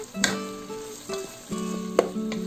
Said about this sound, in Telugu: కొద్దిగా టొమాటోస్ మగ్గేంత వరకు ఫ్రై చేసుకోవాలి.